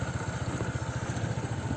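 A motorcycle engine throbs in a steady low, rapid pulse while riding a rough rural dirt road in the hills, close and continuous with faint clatter over it.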